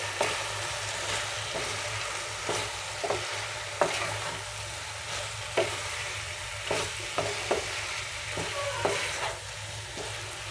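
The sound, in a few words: stirring capsicum chicken fry in pan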